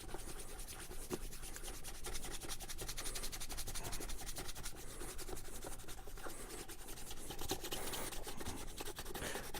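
Steady rubbing and brushing on leather as wax is worked into an Allen Edmonds dress shoe during a shine, a continuous close-up rasping texture with no talk.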